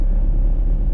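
Low, steady rumble of a 2010 Maruti Suzuki Swift diesel engine at low RPM while driving, a constant deep drone heard close from inside the car with no talk.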